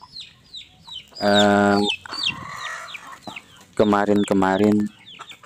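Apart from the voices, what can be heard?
free-range chickens clucking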